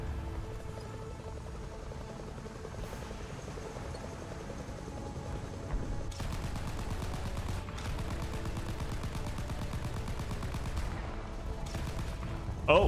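Gunfire in the War Thunder tank video game, a dense rattle of rapid shots and distant rumbling battle noise running steadily throughout, with a louder burst at the very end.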